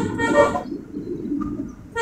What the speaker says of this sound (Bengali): হর্ন ইউজ করছি